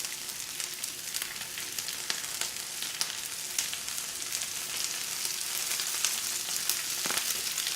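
Chili oil hisses and crackles in a hot stir-fry pan with peppers, a steady close sizzle with occasional sharper pops running throughout, no voices present.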